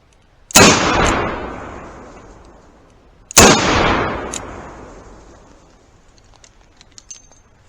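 Two loud, sharp gunshots from a Colt Trooper Mark III four-inch .357 Magnum revolver, spaced about three seconds apart, each followed by a long echoing decay at an outdoor range.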